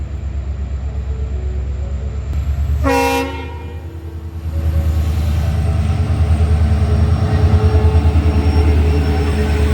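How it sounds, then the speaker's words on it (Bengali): A WDM-4D diesel locomotive sounds one loud, sharp horn blast near a forest, over the steady throbbing rumble of its turbocharged engine, which grows heavier and pulses rhythmically afterward. "বিখ্যাত হর্নের আওয়াজ সেই সঙ্গে টার্বোচার্জার ইঞ্জিনের শব্দ"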